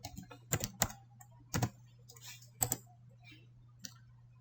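A computer keyboard is typed on while renaming a layer in Photoshop, giving several sharp close key clicks spaced irregularly over a low steady hum, quiet and with no talking.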